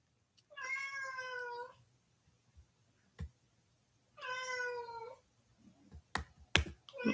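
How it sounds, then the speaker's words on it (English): Two drawn-out, plaintive cat meows, close by, separated by a quiet pause, followed by a few sharp clicks and taps. "Wow, that really is a sad meow."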